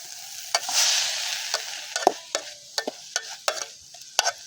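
Dried meat is stir-fried in a pan, with a soft sizzle under repeated sharp scrapes and clacks of the utensil at an uneven rhythm, close and fairly quiet.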